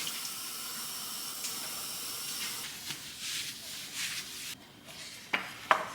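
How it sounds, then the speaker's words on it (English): Hot water from a kitchen tap pours down a sink drain, a steady hissing rush that swells and shifts midway, ending with a couple of sharp clinks. "Hot water down the drain"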